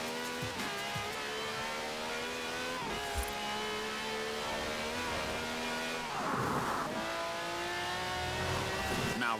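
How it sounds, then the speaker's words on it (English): Car doing a rolling burnout in Forza Horizon 4, V12 with over 750 horsepower, loud sustained engine revving with shifting pitch and a burst of tyre squeal partway through. "A good old-fashioned rolling burnout."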